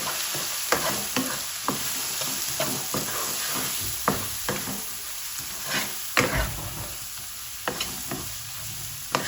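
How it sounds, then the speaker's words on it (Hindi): Liver frying with turmeric and garam masala sizzles steadily while a spoon stirs it, with repeated sharp scrapes and clacks against the pan over the constant hiss. "अब अच्छी तरह इसको मिक्स करेंगे"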